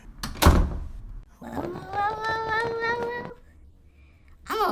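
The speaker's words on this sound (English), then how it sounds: "Shut the door behind you." A door is shut with a sharp, close thud at the start, followed by a sustained, wavering voice-like tone and a brief noise at the end.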